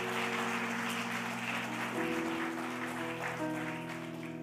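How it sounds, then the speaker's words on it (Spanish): A crowd applauds steadily over sustained music at a Sunday church service, the clapping continuing at a constant level throughout. "Dale un fuerte aplauso a Él."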